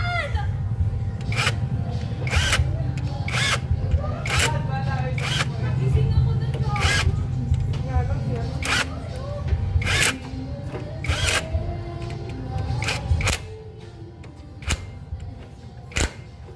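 A power tool tightens clutch cover bolts on a TMX 155 motorcycle, short sharp bursts repeating every second or so in a cross pattern, close and loud, while someone talks throughout.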